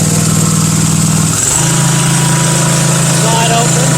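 A Husqvarna MZ5225 riding mower engine runs steadily at half throttle, close and loud, with a brief shift in its drone early on before settling into an even, continuous hum.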